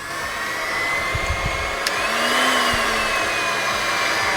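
A heat gun on its low setting blows a steady airy whoosh with a faint motor whine while warming ocean-wave resin art, continuous and fairly close throughout, with a few soft bumps near the start.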